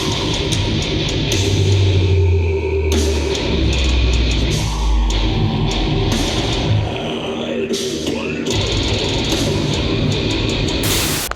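Extreme metal concert rumbling in the background, a loud, dense wash of heavy low-end drums and guitars with crowd noise, continuous throughout.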